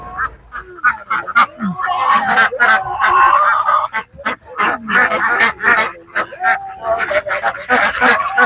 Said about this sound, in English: they're feeding geese and